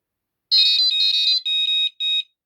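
A Prologic carp fishing bite alarm gives a run of shrill electronic beeps, a longer warbling tone followed by two shorter separate beeps, close and alone against silence.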